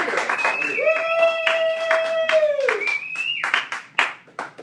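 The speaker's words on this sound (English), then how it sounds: "Big applause." Audience at a live Las Vegas entertainment show claps in a quick, steady patter of hand claps, with a long whistle-like tone rising and holding over the middle of the applause.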